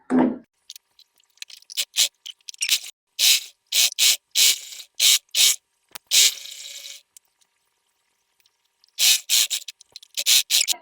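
A sewing machine stitches the folded hem of a palazzo. The motor whirs in short, close bursts, each separated by brief silences, with a longer pause before the final run.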